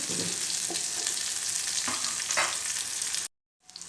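Onions frying in a pan, a loud close sizzle with several stirring scrapes, cutting out abruptly before a brief return.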